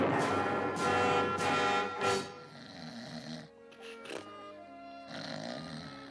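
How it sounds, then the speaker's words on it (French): Loud, rough cartoon snoring breaths from a Smurfs cartoon repeat in a slow rhythm, close by, with a few deeper grunting snorts between them. "Moi, j'aime pas ronfler."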